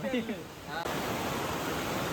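Monsoon floodwater rushes through a village in Konkan's Sindhudurg district as rain keeps falling, a loud, steady broadband roar that swells abruptly partway through and continues unbroken; a voice is briefly heard at the start.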